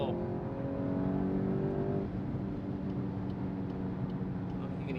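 2024 VW Golf GTI manual driving on the road, a steady low engine and exhaust drone with road rumble and a slight pitch shift as revs change, heard from inside the cabin at moderate level.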